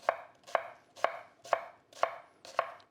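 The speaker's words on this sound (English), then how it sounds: "Now let's chop down our onion." A knife chops down through an onion on a cutting board in six evenly spaced, crisp strikes about half a second apart, close and clear with no talking.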